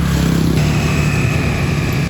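An off-road motorcycle cruises along a highway near Ho Chi Minh City in Vietnam, its engine droning loud and steady with constant wind rush throughout.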